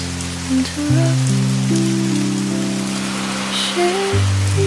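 Steady rain falling around a seaside cafe, a constant hiss beneath soft, sustained musical tones that shift slowly.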